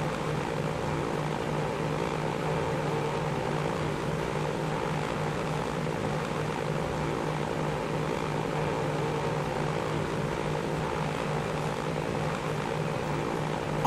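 Propeller engines of a Douglas DC-3 airliner in the video game Transport Fever drone steadily and loudly for the whole stretch, an even, unbroken hum with no talking over it.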